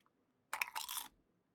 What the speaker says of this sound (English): Can y'all hear me crunching my Pringle?